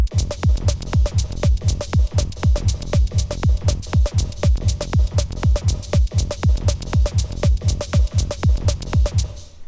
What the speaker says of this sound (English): the dotted eighth over a quarter note, and it sounds like this.